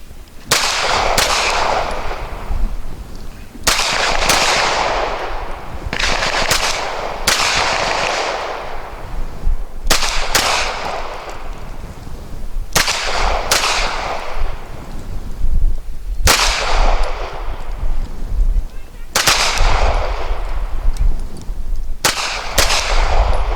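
Loud, sharp pistol shots at an outdoor range from an Arsenal Firearms Strike One and an Archon Firearms Type B, fired as deliberate single shots spaced a few seconds apart, each with a ringing decay.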